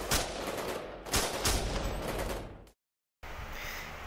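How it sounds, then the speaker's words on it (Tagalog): Sustained gunfire effect in a dramatized war story, dense bursts of shots rolling on for nearly three seconds, a brief silence, then another stretch of loud firing. "Matapos ang walang humpay na putukan, tumigil ang labanan."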